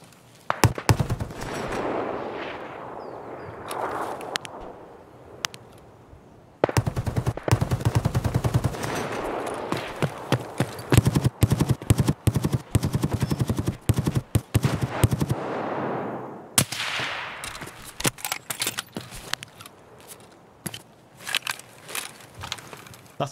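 Bursts of automatic gunfire and single shots crack loudly and repeatedly in the shooter game Escape From Tarkov, with dense rapid volleys through the middle and scattered shots near the start and end.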